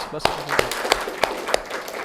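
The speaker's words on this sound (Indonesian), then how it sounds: "Mari kita beri aplaus." A small group of students claps in a classroom after a correct answer, sparse, separate claps at a steady pace, light and close, with talk running underneath.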